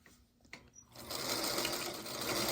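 Sewing machine stitching a quilt block, starting with a few quiet clicks and then running at a steady, close, loud whir through the fabric with no talking.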